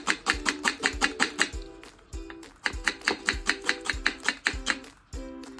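A knife chops onion on a cutting board in quick, steady runs of crisp, close taps, each run about eight strokes long and broken by short pauses.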